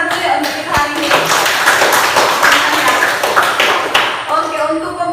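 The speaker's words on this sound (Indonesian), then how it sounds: "Kita tepuk tangan dulu ya untuk kita hari ini" Classroom of schoolchildren clapping their hands together, a dense sustained round of applause lasting several seconds with scattered voices mixed in.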